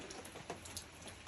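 Steady rain falls outdoors near an old porch on a cool day around 48 degrees Fahrenheit, a dense, even patter with faint scattered drops, fairly quiet throughout.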